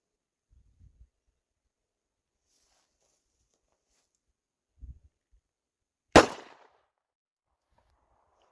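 A Glock 19 pistol fires a single sharp, loud shot outdoors in snowy mountains, preceded by a few faint soft knocks and followed by a short decaying tail.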